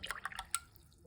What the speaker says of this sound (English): So wet the brush.